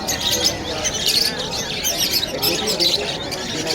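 Many caged birds chirp and squawk together in a busy, continuous chorus at the Malabon pet market, with faint voices in the background.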